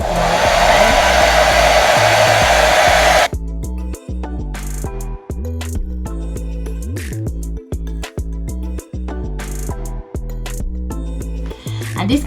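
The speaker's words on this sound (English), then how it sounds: "so I'm gonna be using the hair dryer" A hair dryer melting a lace wig roars loudly up close at first, then continues at a lower, steadier whir with brief interruptions as it's moved.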